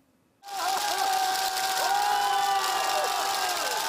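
An outdoor crowd at a winter folk performance in Xuzhou cheers and claps after a short silence, a steady roar of voices with rising whoops and tonal calls carrying over the noise.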